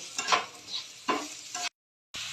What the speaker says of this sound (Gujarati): હવે આપણે આને ધીરે ધીરે ચોળવશું, જેથી કરીને આપણી ડુંગળી છે એકદમ ગુલાબી રંગની થઈ જાય અને કેપ્સિકમ પણ સોફ્ટ થઈ જાય